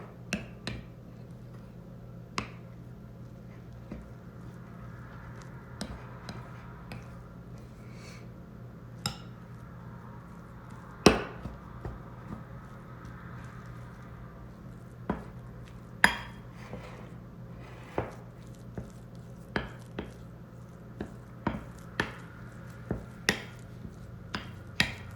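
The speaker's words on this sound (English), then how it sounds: "Next up is just simply stir it. Stir it well so all of the ingredients get mixed in together." Banana treat dough with oat flour being stirred by hand in a bowl, scattered sharp clinks and taps of utensil against the bowl at irregular intervals over a quiet background.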